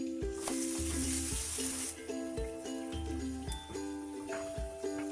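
Two tomatoes' worth of pieces dropped into a pan of browned onions for matar paneer masala, bursting into loud sizzling that settles into steady frying with clinks and stirring scrapes of a utensil.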